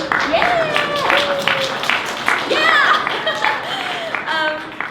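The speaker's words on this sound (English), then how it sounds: "Yes, applause for that." Audience applause at a talk for this year's Miss Asian America, a sustained crowd clapping with scattered cheers and voices mixed in throughout.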